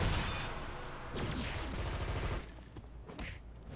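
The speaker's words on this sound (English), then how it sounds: "Got a machine gunner there." Bursts of machine gun fire in the superhero video game City of Heroes rattle out in rapid volleys, loud at first and then dropping somewhat in the last second or so.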